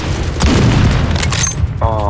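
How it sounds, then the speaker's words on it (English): A grenade blast in the shooter game Phantom Forces lands as a loud, deep boom with rumbling debris, followed by a short burst of gunfire and mechanical clicks, all close and dense. "they're trying to throw grenades over here"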